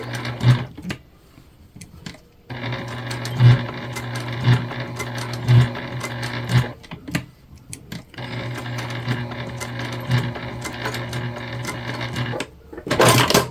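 A sewing machine stitches a patch onto a small crossbody bag, running in several bursts that stop and restart, loud and near, with no talking.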